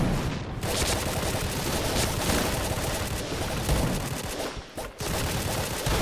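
A Snow Ball Blaster gun shoots in an online shooting game, a loud, dense stream of rapid firing that barely lets up, with a few brief gaps between bursts and no talking.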